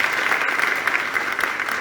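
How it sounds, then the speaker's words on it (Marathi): An audience claps together at an outdoor political campaign meeting, a dense, steady burst of applause throughout with no voices on top. "त्यासाठी आपण जोरदार टाळ्या वाजवल्या पाहिजे."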